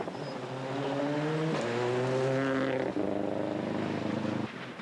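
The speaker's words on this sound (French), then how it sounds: "Le moteur ronfle" A rally car engine running on three cylinders revs unevenly in several rising pulls, rough and sputtering, fairly close and loud, at the 2006 Ardennes Bleue Rally.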